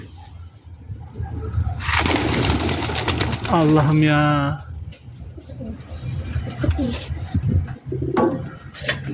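Pigeons coo and flutter nearby as they take to the air, with a rush of wingbeats early on, while someone speaks over part of it.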